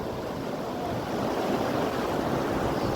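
Sea waves wash in and out on the beach at Barrister Colony in Old Digha, a steady, full rush of surf with wind noise close by and no voices.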